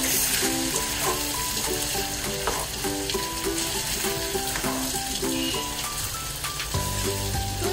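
Boneless chicken and artichoke hearts stir-frying in a pan with Parmesan cheese, a steady close sizzle with frequent scraping stirs, loud and continuous throughout, no talking.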